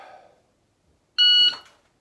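A single loud electronic beep from a shot timer during dry-fire practice, sharp and steady for about a third of a second, following a brief faint rustle.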